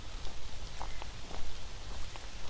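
Heavy rain pouring down in a small neighbourhood woodland, a dense steady hiss with scattered drips and patters, close and fairly loud with no talking.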